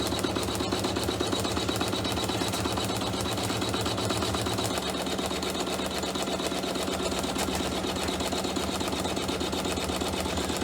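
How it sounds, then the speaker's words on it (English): A Janome embroidery machine stitches chenille hot pads at a steady 500 to 600 stitches per minute, a dense, even mechanical chatter that runs loud and unbroken throughout, with a slight shift in tone midway. "I have my machine stitching at 500 stitches per minute, and I am going to turn it up just a little bit to 600 stitches a minute"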